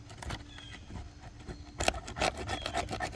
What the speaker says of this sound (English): we're going to try to scrape this stuff here, the silicone.